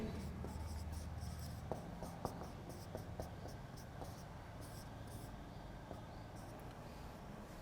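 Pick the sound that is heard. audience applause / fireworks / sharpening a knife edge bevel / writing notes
writing notes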